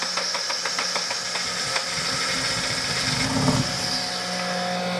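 An engine idles roughly while choking on excess fuel in its intake, a steady loud mechanical drone with uneven sputters and a brief surge near the end, no one talking over it.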